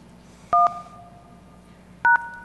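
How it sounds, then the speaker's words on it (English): Two short, loud DTMF dialing tones from a softphone calling a PBX over SIP, each a brief dual-pitch beep about one and a half seconds apart, over a low background hum. "call the PBX using a soft phone, so it's gonna be SIP directly to the PBX"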